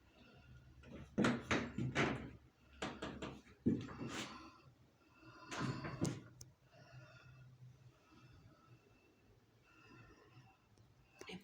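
Small, well-made new drawers are opened and closed several times in a home, giving soft sliding and knocking sounds in uneven bursts over a quiet background.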